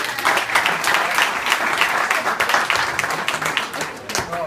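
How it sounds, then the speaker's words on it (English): An audience at a roast gives loud, dense applause that goes on without a break for several seconds, with scattered cheers mixed into the clapping. "Let's hear it for Ryan"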